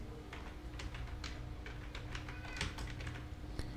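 Rapid, uneven clicks of a computer keyboard being typed on, moderately close, in a quiet room with a faint low hum underneath and no talking.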